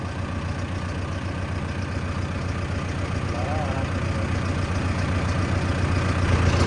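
Steady low diesel throb of a Mahindra Arjun NOVO 605 tractor engine running through a paddy field, a constant rumble close by with a faint voice over it.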